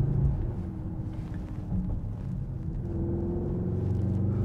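A 2021 Mercedes-AMG GLE 63 S 4Matic SUV driving, with a steady, loud low engine rumble and road drone that holds evenly throughout, without speech.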